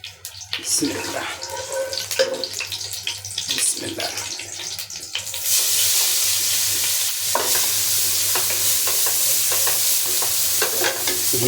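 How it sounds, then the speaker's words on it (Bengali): Grated carrots sizzle and fry in ghee in a pan for Bengali-style carrot halwa, with stirring scrapes in the first half giving way to a steady, loud hissing fry that continues to the end. "আগে ঘি দিয়ে সুন্দর করে ভেজে ভেজে নিব"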